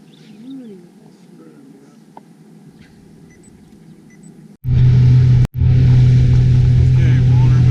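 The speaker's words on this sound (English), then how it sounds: "Here comes a speedboat." A speedboat engine roars in suddenly and loudly on the Colorado River near Horseshoe Bend, heard from a drifting raft, holding a steady drone after a quiet stretch with a brief cutout.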